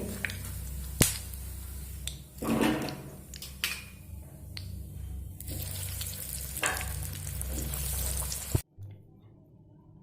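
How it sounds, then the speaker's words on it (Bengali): Homemade fish fingers fry in hot oil, a close, steady crackling sizzle punctuated by sharp clicks and bursts as pieces are moved, before the sound drops abruptly to near silence. "বাকিগুলো একইভাবে ভেজে নেব"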